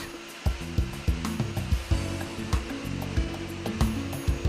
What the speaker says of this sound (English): let's see the KV80 at work.